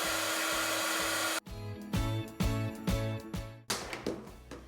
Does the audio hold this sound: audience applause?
no